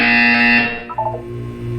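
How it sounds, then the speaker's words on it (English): A loud electronic buzzer in Portal 2 sounds once as a steady harsh tone, then cuts off, leaving a low hum and brief clicks. "When you hear the buzzer, look down at the floor."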